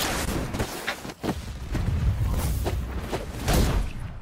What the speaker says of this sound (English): Oh, there's a guy shooting cannonball.